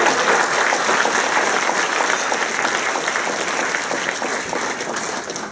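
Sustained applause from a crowd at a soccer retirement celebration, steady and dense clapping filling the room throughout without a break, tapering only slightly at the end.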